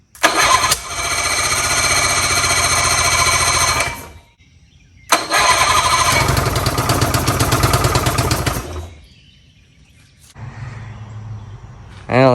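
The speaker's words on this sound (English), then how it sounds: "I have got a new starter in, and it is working." A 1959 Owens Runabout boat engine with a new starter cranks over loudly in two long bursts, a steady rapid churning, followed by a quieter lower rumble near the end.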